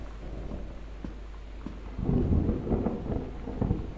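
Low rumbling thunder rolls through a rainy night in the game Gone Home, faint rain steady at first, then a deeper swell of rumble building in the second half, alone without talk.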